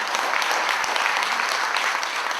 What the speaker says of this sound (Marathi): कमांडोसाठी टाळ्या द्या जरा आणि त्या सरांसाठी